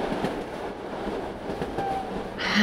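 A train running, used as a sound effect in a Bengali audio story, rumbles steadily and fairly loud on its own with no talk, and its noise swells toward the end.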